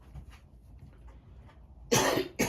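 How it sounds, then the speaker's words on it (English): A person coughs twice in quick succession near the end, loud and close after a quiet stretch of faint room noise. "I've got a cough, one moment."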